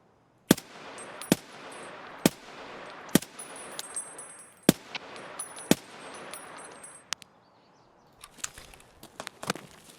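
Sharp single gunshots ring out at irregular intervals in Escape from Tarkov, each crack distinct and loud against a quiet background, followed by a burst of smaller rapid shots and clanks near the end.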